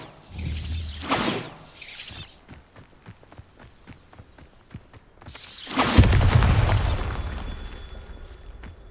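A Bombarda blasting spell goes off in Hogwarts Legacy, with two loud bursts and a long rumbling blast near the end, broken by a run of quick footstep-like ticks.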